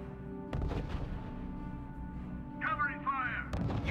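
Artillery and gunfire sound in the World War II strategy game RUSE. Two heavy booms, one early and one at the end, frame a rumbling battle bed with chirping effects in between, and voices are present.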